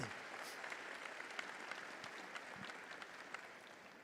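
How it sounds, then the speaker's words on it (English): Steady applause from an audience at a graduation commencement ceremony, faint and somewhat distant, a continuous patter of clapping with no voices over it. "Give yourselves a round of applause."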